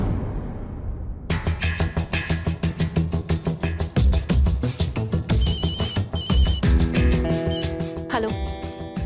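A telephone ringtone plays a repeating electronic melody steadily for several seconds, loud and close.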